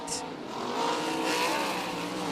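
A 360 sprint car running hot laps at the East Bay WinterNationals roars past, its engine swelling and fading as it goes by, with a faint tire chirp near the start.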